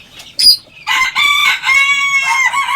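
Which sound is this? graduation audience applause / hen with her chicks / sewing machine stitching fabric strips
hen with her chicks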